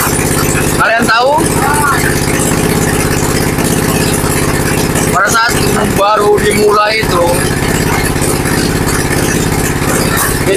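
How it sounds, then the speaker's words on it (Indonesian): A machine engine hums steadily and loudly throughout. Someone talks briefly over it a few times. "itu suara mesin pasti terasa lebih berat dikarenakan"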